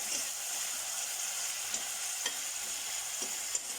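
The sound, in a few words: onion frying in a pan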